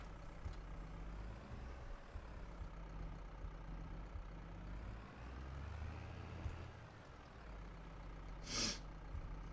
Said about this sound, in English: Well, this is a nice tractor compared to the other ones